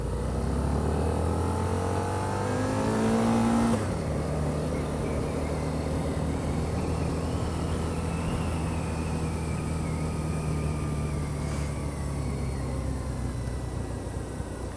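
A Harley-Davidson V-Rod Muscle motorcycle engine drones steadily while riding, a low continuous hum with wind rush, shifting pitch early on and then holding even for the rest.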